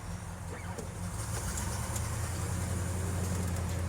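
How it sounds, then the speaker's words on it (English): A restored 1967 Pontiac GTO muscle car idles with a steady, deep, thumpy exhaust rumble that holds even and fairly close throughout, with faint birds chirping outdoors. "The exhaust sounds really, really good. It's like thumpy. That's a good sounding muscle car."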